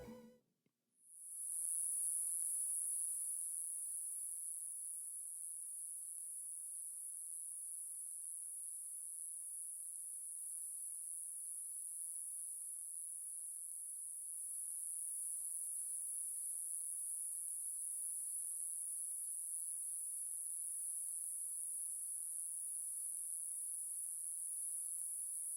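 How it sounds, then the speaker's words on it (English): Crickets chirp in a meadow as a steady, continuous high-pitched drone that holds unbroken and fairly loud throughout, alone with no voices. "the sounds of crickets in a meadow"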